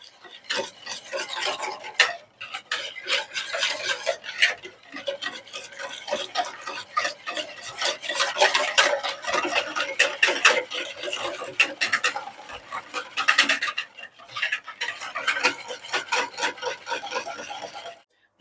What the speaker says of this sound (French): je vais donc verser mon lait petit à petit et remuer de manière énergique